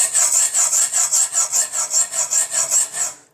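Single-bevel yanagi deba ceramic blade being sharpened on a jig, a bright raspy scraping repeated in steady strokes about four per second, loud and close with no talk.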